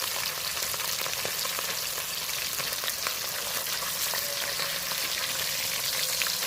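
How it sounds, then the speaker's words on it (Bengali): Fish pieces, head first, frying in hot oil in a kadai wok, producing a steady, dense, close sizzle that crackles without pause throughout. "মাছগুলো এক করে আমি ছেড়ে ভেজে নেব প্রথমে আমি মাথাটা দিলাম"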